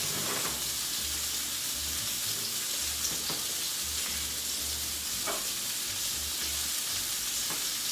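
Ramen-style yetsamen noodles, about 300 grams, bubble and sizzle in a cooking pot, a constant loud hiss with occasional soft stirring knocks and no talking.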